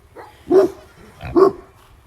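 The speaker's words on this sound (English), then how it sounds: "That is a very unhappy Anatolian Shepherd dog." An Anatolian Shepherd livestock guardian dog gives two loud, close barks about a second apart, sounding distressed, with no talking.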